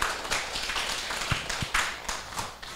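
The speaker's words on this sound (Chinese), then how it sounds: "请大家用掌声欢迎" Scattered hand claps from a seated class audience at a Taiwan Civil Government jurisprudence course, welcoming a lecturer; sparse and uneven rather than full applause, fairly close, with no talk.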